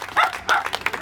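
A dog at an outdoor political campaign rally gives a few short, sharp barks in quick succession, fairly close and loud, with faint crowd noise behind.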